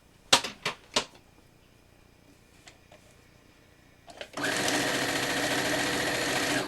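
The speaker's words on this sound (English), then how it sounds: "then I can start sewing them together" A sewing machine stitches quilt rows together for a Triforce mini quilt. A few sharp clicks and handling knocks come first, then the motor starts into a steady, loud, continuous run.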